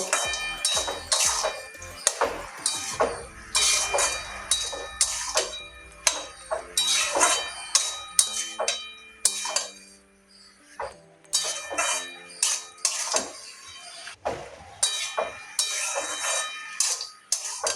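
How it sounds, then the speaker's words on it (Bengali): A spoon scrapes and clinks against a pan while pumpkin and yardlong bean curry is stirred, giving sharp metallic knocks and scrapes in irregular bursts with brief pauses, close and clear without speech. "এবারে আবারও ভালো করে মিশিয়ে নেব।"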